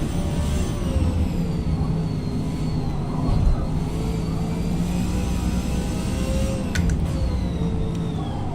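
A race car engine revs under throttle in the Forza Motorsport video game, a loud continuous droning roar with rising and falling pitch that carries steadily all the way through, with no talking over it.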